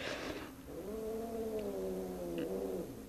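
A cat gives a drawn-out, wavering meow lasting about two seconds, fairly close and clear over a quiet background, with a slight rise and fall in pitch.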